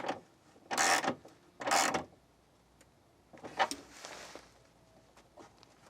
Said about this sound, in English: get the nut done up properly